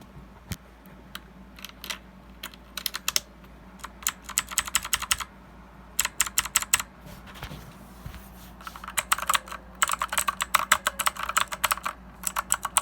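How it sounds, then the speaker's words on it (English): Keys clack on a Redragon mechanical keyboard with blue switches, in close, crisp bursts of rapid typing separated by short pauses and growing denser toward the end. "So yeah, this keyboard sounds great."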